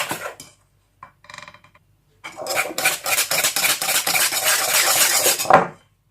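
Biscuit dough being mixed in a bowl with a utensil, a few brief clinks and scrapes after silence, then a run of rapid rhythmic scraping and knocking strokes against the bowl, close by, ending abruptly.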